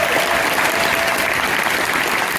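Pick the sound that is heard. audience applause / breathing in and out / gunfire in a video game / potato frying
audience applause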